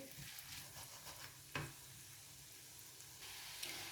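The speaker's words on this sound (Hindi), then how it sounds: "आलू को हम लो फ्लेम पर 3 से 4 मिनट अच्छी तरह से फ्राई करेंगे।" Potatoes fry in oil in a pan on a low flame, a steady soft sizzle punctuated by a few knocks and scrapes of stirring, with no voices.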